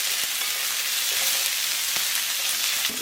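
Ginger, garlic and allspice-leaf paste frying in a pan, stirred steadily with a constant close sizzle and occasional scraping taps, for a Kerala-style chicken curry.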